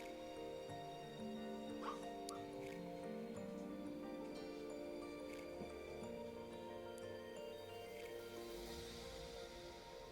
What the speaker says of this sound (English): she starts barking again in her sleep